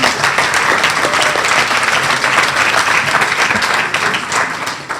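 A large crowd applauds loudly and continuously, a dense wash of clapping that carries on steadily and fades slightly toward the end.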